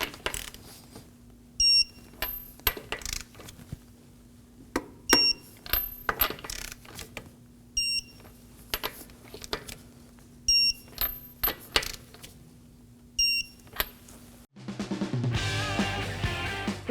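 Lug nuts on a 2016-2020 Kia Sorento wheel are tightened in a star pattern with a torque wrench: sharp metallic clicks and brief high beeps in spaced bursts, close by, followed by a dense burst of other noise at the end.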